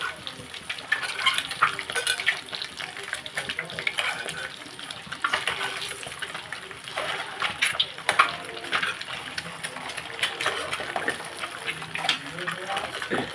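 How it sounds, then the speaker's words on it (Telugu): Ginger and garlic frying and being stirred in a hot pan, a steady close sizzle broken by scraping stirs throughout, with a voice talking faintly over it. "ఇవన్నీ కూడా వేసి కొంచెం అటు ఇటు ఫ్రై అయ్యాక"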